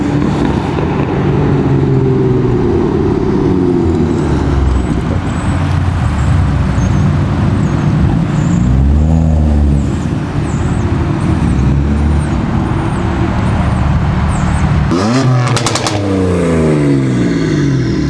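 BMW M3 G80 fitted with a Remus exhaust, revving loudly close by in several sharp, rising bursts over a steady idle rumble, with a final hard rev near the end.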